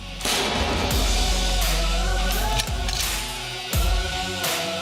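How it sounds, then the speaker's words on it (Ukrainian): Military gunfire rings out at an army brigade training range. Heavy, booming shots strike at intervals, each leaving a long rolling echo, and the reports overlap loudly. "Стріляємо з всього, що в нас є в бригаді."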